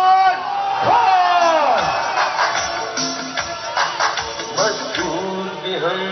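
A large crowd at Imran Khan's Labour Day political rally in Lahore roars with cheering and shouting, close and loud, rising in a sustained swell with voices whooping over the mass.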